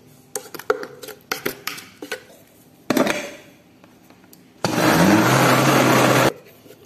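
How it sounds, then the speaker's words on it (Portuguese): A countertop blender whirs loudly for a couple of seconds as it mixes a batter of wheat flour, oil and salt, following a series of clicks and knocks from handling. "Vou dar uma misturada aqui antes de bater tudo no liquidificador."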